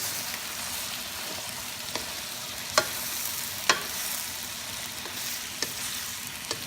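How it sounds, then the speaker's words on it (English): Banana blossom dish fries in a pan as soy sauce is mixed in, with a steady soft sizzle and a few sharp spatula taps against the pan, close by and without speech. "soy sauce and give it a good mix."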